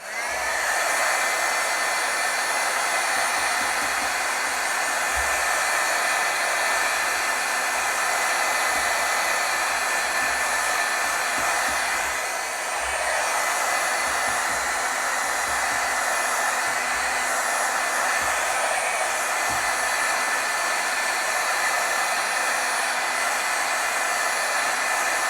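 A heat tool blows a constant loud, even whoosh for a long stretch while heat-setting stamped ink, with a steady airflow hiss and no pauses.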